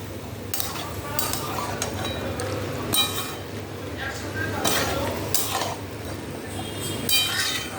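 Mutton keema and chana masala being stirred and scraped in a pan, with repeated metallic clinks of a spoon against the pan over a low frying sizzle, close and steady.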